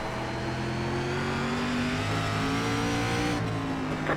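An SRX race car engine at full throttle in iRacing at South Boston, a loud, close, continuous drone whose pitch climbs steadily and then dips slightly near the end, with no voices.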